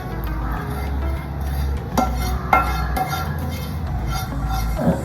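Mango pickle paste for kadumanga scooped into a pan, with soft scraping and light metallic clinks of a spoon against the pan at close range over a low hum.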